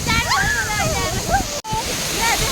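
Tarevir Waterfall roars as a steady, loud wash of falling water close by, nearly continuous through the clip, with people talking over it.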